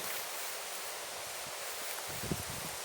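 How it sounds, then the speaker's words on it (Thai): Strong wind rushing through forest leaves, a loud continuous broadband rustle with gusty swells, heard alone with a brief soft knock near the end. "ลมแรงจัง"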